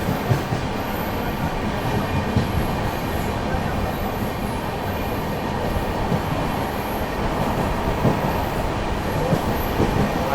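The 22614 Shraddha Sethu SF Express runs through Tambaram station without stopping, heard from on board as a steady, loud, continuous rumble of wheels and carriages over the full length, with faint rail clatter.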